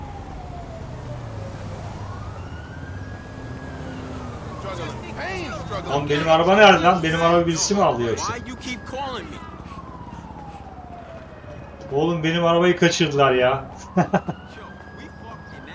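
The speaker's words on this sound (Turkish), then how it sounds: "Arabanın sesi geliyor, siren sesi geliyor." A police car siren from the video game GTA 5 wails in rising and falling sweeps throughout, while someone talks loudly over it in bursts.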